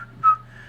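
A whistled melody in a song, set over a Latin beat. A short, bright whistled note swells up briefly over a steady low bass and a sustained tone, with no talking.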